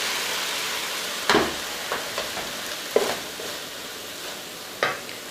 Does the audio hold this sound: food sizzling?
yes